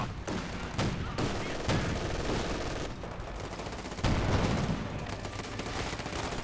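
A Company of Heroes 2 two-versus-two battle rattles with dense gunfire, machine-gun bursts and grenade blasts. The shots overlap in loud, continuous volleys, and a few sharp bangs stand out.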